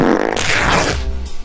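A loud, close fart rips out for over a second, a rough sputtering blast that trails off at the end, with no talking over it.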